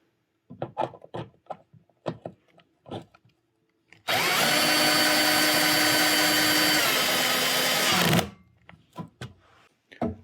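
A power drill drives a plastic wall anchor into place for a 36-inch inPlace shelf, a loud, continuous four-second whir framed by scattered taps and knocks before and after.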